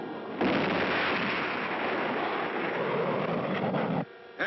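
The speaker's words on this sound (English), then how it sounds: "The timer shows that the first stage is almost ready to drop off." Cartoon sound effect from a 1959 animated rocket launch: a loud sustained roaring rumble as the first stage separates, running steadily for about four seconds before cutting off abruptly.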